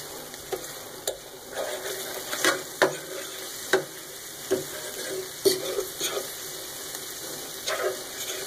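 Garlic sautés in olive oil for linguine with anchovies, giving a soft steady sizzle broken by repeated sharp utensil clicks and stirring taps.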